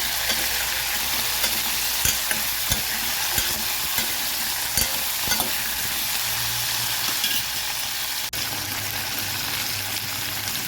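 Food roasting in a pan, a continuous dense sizzle with occasional stirring knocks and scrapes, close and steady, with no voices.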